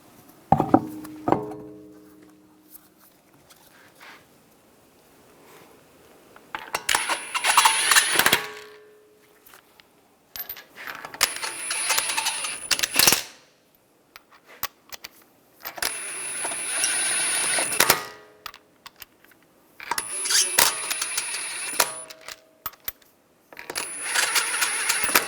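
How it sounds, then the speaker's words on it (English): Wheel being mounted onto the front hub of a 2013-2016 Dodge Dart, with metallic clinks and scrapes of lug bolts coming in several separate bursts between quiet gaps, close and fairly loud, no talking. "And put the wheel on."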